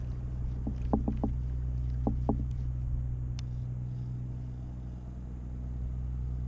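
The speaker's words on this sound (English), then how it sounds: "I hear the boat." A steady low engine drone hums in the distance from a boat running offshore near Hirado, Japan, heard from a fishing kayak, with a few faint knocks early on.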